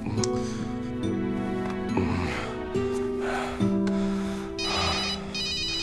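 A telephone rings loudly and close, in repeated electronic ring bursts that carry on steadily with no other sounds.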